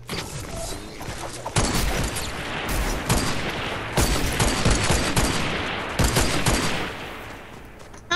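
Rapid, sustained gunfire from a first-person shooter video game, dense bursts of shots rattling continuously at close range with sharp louder cracks throughout, and no talk over it.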